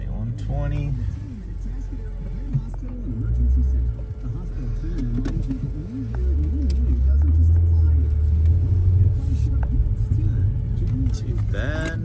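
A 2009 Nissan Maxima on a test drive rolls along with a low, steady engine and road rumble, swelling in the second half, while someone talks over it near the microphone.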